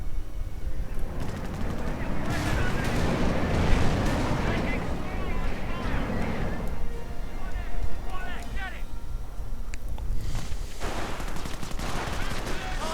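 Gunfire and artillery from a WWII strategy game with British forces against a Panzer: dense bursts of shots and booming explosions layered with continuous battle noise, while someone talks over it.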